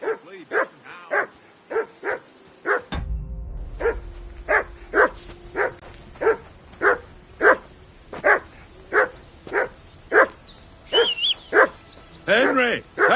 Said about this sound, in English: Call off that mutt of